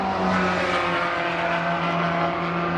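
A Maserati MC12 race car runs at the Spa Classic historic racing event, its engine a loud, close, sustained drone with a steady pitch throughout.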